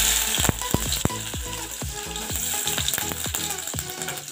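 Onion sizzling in a pan with a dried red chilli for Kerala-style pulingari, a loud constant fry with a quick run of scraping, clicking stirs.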